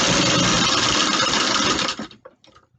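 A vintage Singer sewing machine stitches a Harlequin pouch, running loud, close and steady for about two seconds before winding down and stopping, followed by faint handling clicks.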